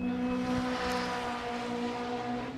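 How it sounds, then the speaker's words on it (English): A Spec Clutch S14 race car runs down the front straight into turn 1 at a track event, a steady engine drone with a faint rising whine, heard at a distance under wind and crowd noise. "Now that was Dave Norton coming down the front straight, turning into the right there, turning into turn 1"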